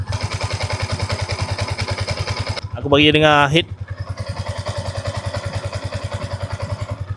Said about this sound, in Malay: Jom kita dengar bunyi motor